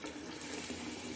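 Tap water runs in a steady, soft gush for a moment, poured out for a golden retriever to drink.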